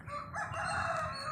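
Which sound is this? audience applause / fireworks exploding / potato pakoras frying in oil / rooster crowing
rooster crowing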